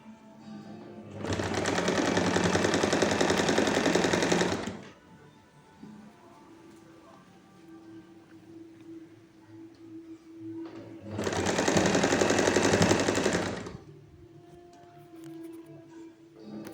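A sewing machine stitches a folded inner edge of a garment sleeve in two loud, steady bursts of rapid whirring, each lasting a few seconds, separated by a quieter pause with a low hum.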